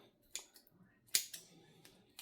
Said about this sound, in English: we're gonna chop this off into smaller pieces. And scissors.